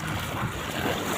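Two engines of a small wooden fishing boat run steadily at night during bottom fishing, a continuous low rumble with wind and water noise, with no talking.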